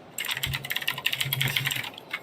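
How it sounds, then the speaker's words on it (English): A loud newly bought computer keyboard clacks in rapid, steady typing, the keystrokes dense and close with no voice over them. "But I'm sorry if y'all could hear my keyboard,"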